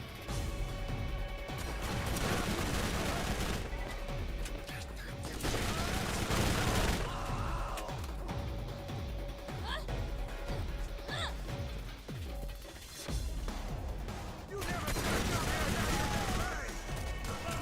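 Revolver gunfire in the video game Borderlands, repeated sharp shots in irregular bursts amid other game explosions and effects, with a voice talking over parts of it.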